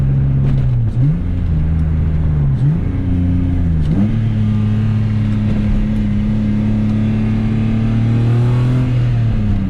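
Loud engine noise heard from inside a BMW E30 fitted with an S52 engine and 4.10 gearing, rising through revs with several gear shifts before a long, steady pull at higher pitch.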